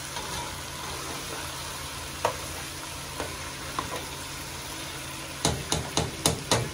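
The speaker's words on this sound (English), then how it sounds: "our next step is we stir everything together" Curry oxtail being stirred in a pot: a steady low simmer underneath, with scattered scraping knocks from the spoon and a quick run of louder clanks against the pot near the end.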